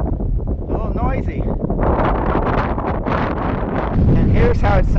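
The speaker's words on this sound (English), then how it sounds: "Man, it's really windy." Strong, steady mountain wind on the Appalachian Trail buffets a lavalier microphone with low rumbling roar throughout, while someone talks over the gusts.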